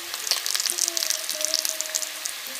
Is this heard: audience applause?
no